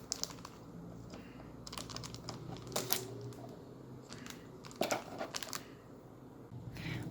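Unboxing of a Logitech K380 Bluetooth keyboard package: quiet crinkling, tapping and scraping of cardboard and plastic, with scattered sharper clicks and rustles at close range and no talk.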